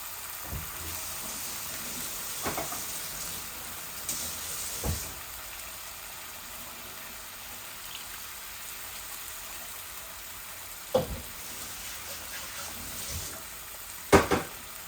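Satkora citrus pieces sizzle steadily in a hot pan, a continuous frying hiss with a few soft clinks and stirring knocks scattered throughout.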